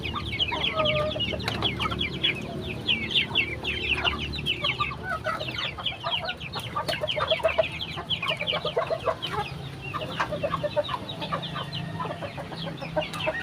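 Breeder hens clucking busily at feeding time, a dense, continuous chorus of close cackles and clucks over low farmyard background noise.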